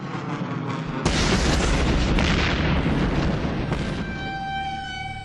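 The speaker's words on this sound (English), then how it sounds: "He calls in one final airstrike to subdue enemy activity in the area." A series of heavy airstrike explosions in a wartime jungle battle, a deep sustained roar of blasts and rumbling booms that swells abruptly after a second and stays loud throughout, with sharper bursts layered on top.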